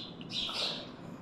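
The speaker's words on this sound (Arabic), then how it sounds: "سامعين ما أحلى صوت العصافير من صفكم" Birds chirp outside a school classroom, a brief cluster of bright, high tweets over faint room background, with no voices.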